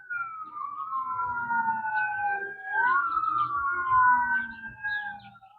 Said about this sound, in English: I can't tell if that's an ambulance or a cop.